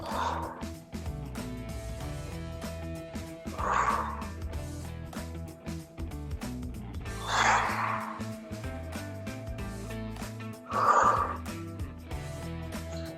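Heavy, forceful breaths recur every few seconds during a floor stretching routine for spine mobility, rising over a steady background music bed with a rhythmic pattern of four loud exhalations.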